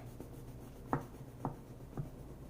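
A knife saws through a loaf of homemade brioche, three or four quiet rasping strokes at a steady pace, close and soft.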